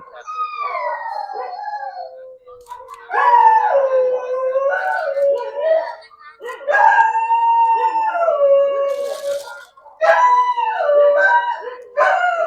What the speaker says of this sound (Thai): โอเลี้ยงไม่เห่าหรอกลูก